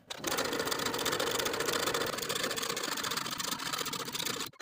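A sewing machine runs continuously while stitching the tie pieces of a pintuck dress with a 3/8 inch seam allowance, a steady fast mechanical whir that starts abruptly and stops just before the end.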